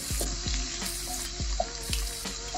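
Braised oxtails tossed with Cajun seasoning and paprika in a cooking pot, a continuous loud sizzle punctuated by rhythmic scraping stirs about every half second, up close with no talking.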